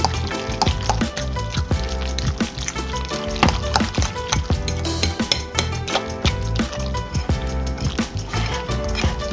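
Spoon mixing a thick cream cheese and spinach filling in a bowl, with steady close scraping and clacking strokes in a busy, continuous rhythm.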